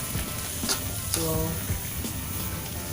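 Chicken pieces fry in a pan for adobo, a steady crackling sizzle with occasional louder pops and brief scraping stirs, close and continuous with no talking.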